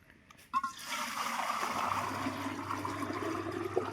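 Water poured out to rinse hands after a meal in a home kitchen, a steady running splash and trickle that starts abruptly and continues evenly at moderate volume with no talk.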